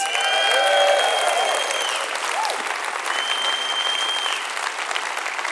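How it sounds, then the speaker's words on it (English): A conference audience at a Liberal Democrat spring rally applauds with loud, sustained, dense clapping across the whole stretch, with faint cheers and whistles rising above it. "let's just give him another encouraging round of applause."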